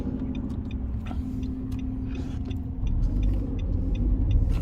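Steady car interior road noise from a 2020 Nissan Rogue SV AWD with CVT while driving, a continuous low rumble that swells slightly louder partway through, with no talking.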